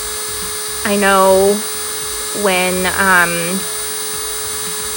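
An AIRSEE electric nail file drill whines at high speed in two rising-and-falling bursts, a thin steady pitch over background hum, with a brief spoken remark between them.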